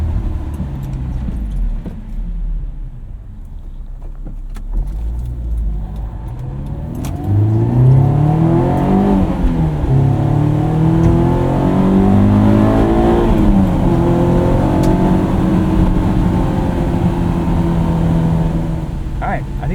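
A 2001 Honda S2000 with its intake cover on revs and pulls through the gears on a Sunday morning drive, the engine note rising and falling steadily under light cabin noise.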